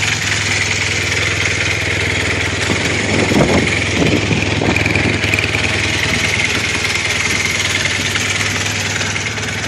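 A 1980 Honda CB400 motorcycle engine idles steadily nearby, a continuous mid-pitched rumble with light mechanical ticking and a few brief bursts of extra noise.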